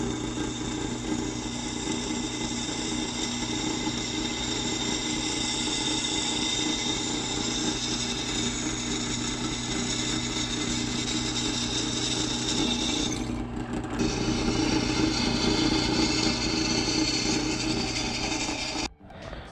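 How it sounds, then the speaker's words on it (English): A power drill whines steadily as it bores through the factory holes of a metal e-bike sprocket, one long continuous run with a brief pause near the end before stopping. "let's drill through the factory holes to make sure it's centered"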